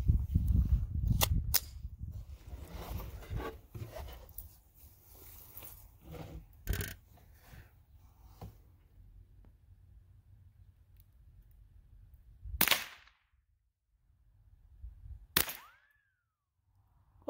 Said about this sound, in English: you hear that? That was pretty cool, ricochet.